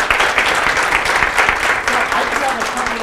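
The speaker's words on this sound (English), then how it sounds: "let's give Stacey a round of applause" An audience claps steadily after a book talk, dense continuous applause filling the room for about three seconds, with a voice faintly audible beneath it.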